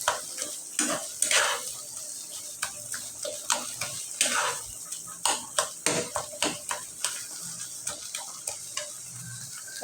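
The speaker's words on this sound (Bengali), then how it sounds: "এখন আমি আরেক তাওয়ার মধ্যে পেঁয়াজটা ভাজে নেব।" Onions frying on a tawa, a low sizzle under repeated sharp spatula taps and scrapes against the pan, close and rhythmic, without any talking.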